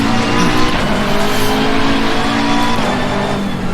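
Race cars in a racing video game pulling away at the start of a 15-minute race in a storm, a loud, continuous blend of engine roar and tyre noise with no talk.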